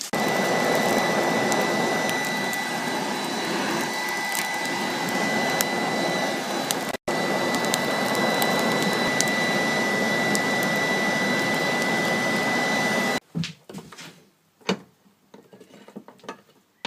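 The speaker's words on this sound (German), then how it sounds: "Aber mit der Heizpistole wird das so heiß." A heat gun blows hot air with a loud, steady roaring hiss for about thirteen seconds before cutting off abruptly, leaving scattered quieter clatter and handling sounds.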